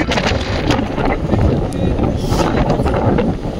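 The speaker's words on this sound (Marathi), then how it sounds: "वारं सुटले जोरात." Strong wind gusting across the open hilltop of Vardhangad fort in Maharashtra, a loud, continuous roar buffeting the microphone throughout with no break.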